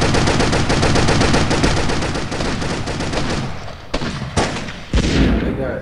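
Loud, dense automatic gunfire from the mobile shooter Tacticool, a sustained rattling fusillade that thins out into a few separate sharp shots near the end, with no voices over it.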